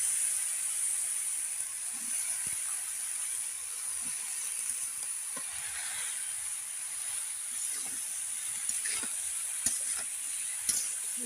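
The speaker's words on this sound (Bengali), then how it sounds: "ভালো করে নেড়ে দেবো।" Eggplant and potato frying with dried fish in a pan, a steady soft sizzle with occasional faint stirring scrapes throughout, no voices.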